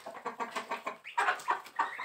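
Backyard chickens cluck in a steady run of short, rhythmic calls at close range, with a louder burst of busier clucking midway through and no talk.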